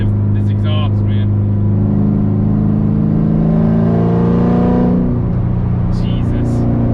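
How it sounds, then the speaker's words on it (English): A C7 Corvette Z06 with a new loud aftermarket exhaust revs up, its deep droning engine note rising to a peak and falling back, heard loud and close with voices talking over it at the start and end. "I talk kind of loud, so maybe, but I don't know if it'll be over this exhaust"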